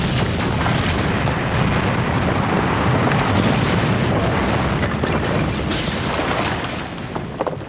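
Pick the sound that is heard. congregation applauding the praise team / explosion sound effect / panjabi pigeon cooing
explosion sound effect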